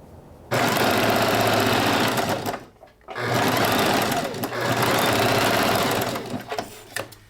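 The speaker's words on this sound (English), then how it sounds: "That was literally my last stitch sewing that thing together." A home sewing machine stitches the final seam of a handmade wedding dress piece in steady, loud runs, pausing briefly near the middle before resuming, with some mechanical knocking under the whir.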